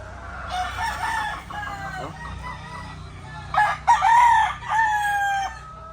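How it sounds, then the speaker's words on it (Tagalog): A small rooster crows and clucks nearby in short bursts, with a louder crow near the end over a quiet background. "Pero maliit na manok."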